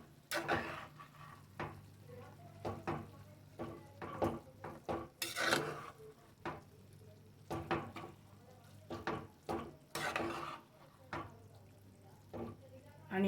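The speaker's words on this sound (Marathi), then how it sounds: "हे सगळे पदार्थ एकत्र मिक्स करून घ्या." Mutton kheema ingredients being stirred together in a pot over a low flame: irregular scrapes and knocks of a spoon against metal over a soft sizzle, with a voice heard at times.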